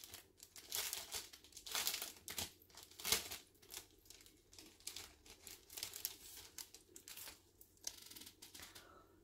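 Paper crinkles and tears as a handmade scrapbook card envelope is opened, with bursts of close rustling and crumpling that come and go over several seconds and no speech.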